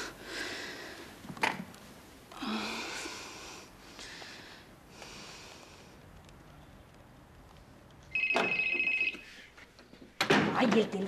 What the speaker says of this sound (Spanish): el teléfono sonando sin parar y acá no viene nadie